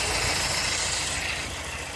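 A BMW diesel engine idles roughly with a cylinder 3 misfire, a steady, close low rumble with an uneven, lumpy pulse running throughout and no talking.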